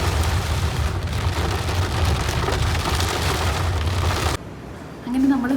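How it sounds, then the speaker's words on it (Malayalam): Heavy rain pounds a car during a drive, a loud, dense drumming and hiss that fills the cabin for several seconds before abruptly dropping away to near quiet. "മഴ നിൽക്കുന്ന ലക്ഷണമൊന്നുമില്ല."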